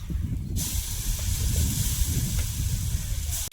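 Mashed pointed gourd, seasoned with turmeric, salt, cumin and crushed garlic, hits a hot wok with a sudden loud hiss that settles into a steady, close sizzle.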